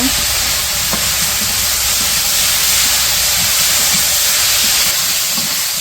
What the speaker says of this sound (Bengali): তো এইদিকে তো পেঁয়াজ, আলু আর কাঁচামরিচ ভাজতে দিচ্ছিল অল্প একটু লবণ দিয়া।